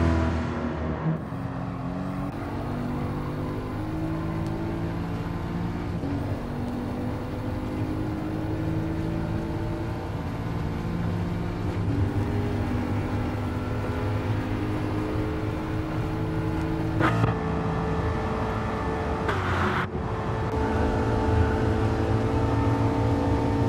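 Race cars in a Ford Mark 1 1966 racing game replay drone steadily with engine tones rising and shifting as cars pass, loud and continuous with a few abrupt cuts, no talking.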